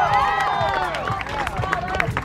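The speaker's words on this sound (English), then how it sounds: "let's give him a big round of applause one more time" Live audience at a NASCAR Xfinity Series event at the Charlotte Roval clapping and cheering for a truck driver, a dense burst of applause with voices mixed in, fairly close and steady.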